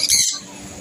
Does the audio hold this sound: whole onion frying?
no